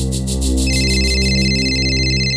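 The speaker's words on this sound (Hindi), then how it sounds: "आपका फोन बज रहा है" A landline telephone rings loudly and steadily for the whole stretch, a continuous electronic trill with no voices over it.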